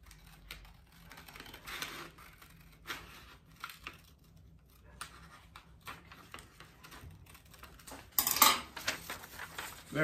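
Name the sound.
cutting out a paper template with scissors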